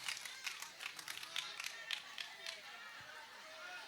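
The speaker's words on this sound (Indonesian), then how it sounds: "Siapa tadi tepuk tangan Haikal, kamu banyak." Crowd applause at a live Islamic sermon gathering in Cirebon, a faint, steady patter of many hands clapping for a few seconds.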